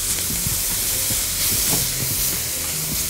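Bell peppers stir-frying in a hot pan give off a steady, close sizzling hiss that runs without a break, with faint low clatter beneath it.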